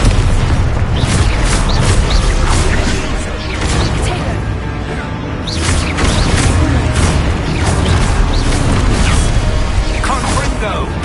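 Expulso spells in Hogwarts Legacy set off repeated loud booming blasts with crashing debris, spaced through the stretch, while a voice calls out over the explosions.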